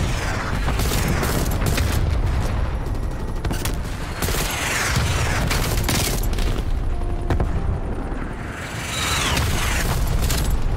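Artillery strike explosions in Black Ops Cold War sound as dense, continuous booming blasts mixed with rapid gunfire, loud and close, rumbling without pause through a chaotic multiplayer match.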